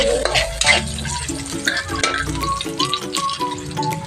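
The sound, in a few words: onions sautéing with garlic in pan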